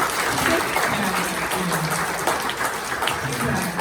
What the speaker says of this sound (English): let's give Charla and the Chamber a round of applause